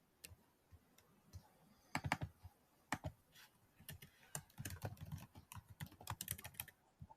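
Someone types on a computer keyboard during an online lecture, a quiet, irregular patter of key clicks that speeds into denser bursts toward the end, with no voices.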